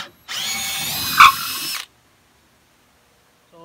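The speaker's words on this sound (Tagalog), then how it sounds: "Gamit tayo ng mas malaking drill bit na pangkahoy. Try natin itong Dewalt." A DeWalt cordless drill fitted with a large wood drill bit runs at full speed in one loud, steady whine of about a second and a half, rising briefly as it bites, then stops and leaves near silence.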